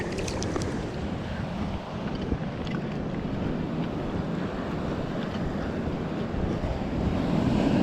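Ocean waves at Scottburgh beach surge and wash around with heavy wind buffeting the microphone, a constant rough roar of sea and air.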